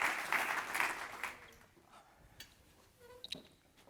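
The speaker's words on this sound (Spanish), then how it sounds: "un fuerte aplauso, por favor, para los tres" Audience applause for three panel speakers at a round-table session of a Minsait x Forbes business event: a loud burst of dense clapping that thins and fades after about a second and a half, leaving scattered quieter room noise.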